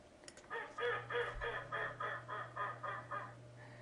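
A female duck from a 4-H poultry flock quacks quickly, with about nine evenly spaced quacks in a fast, steady rhythm, faint and slightly distant over a low steady hum, with no voices.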